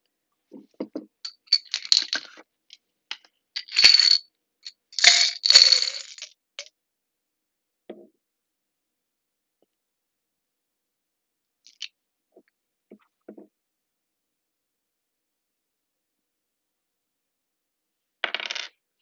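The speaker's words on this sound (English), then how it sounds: "Gosh, the dice are stuck in my jar." Dice shaken and rattling inside a jar during a solo tabletop RPG session: sharp clattering bursts in the first seven seconds, then a long quiet stretch with a few faint clicks and a final short rattle.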